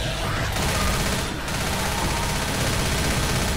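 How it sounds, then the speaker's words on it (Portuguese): Continuous loud gunfire from the Left 4 Dead video game, a dense steady stream of shots with no pauses over the whole stretch. "Para de atirar em mim!"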